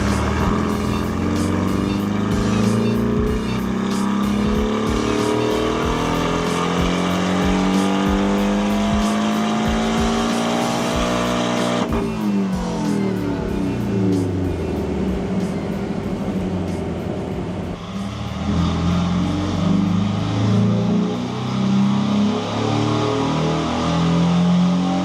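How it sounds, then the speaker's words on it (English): A Porsche 718 Cayman on a Stage 2 tune runs steadily, its engine note rising in pitch through long sweeps with a clear shift near the midpoint, loud and close throughout with no talk. "We've now seen the car run with our stage 2"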